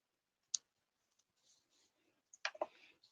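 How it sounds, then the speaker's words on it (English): Scissors trim the rough edge of a folded stamped greeting card, giving a sharp snip, a few faint rustles of paper, then a cluster of two or three closer snips and clicks near the end, with no talking. "Just trim it with my scissors."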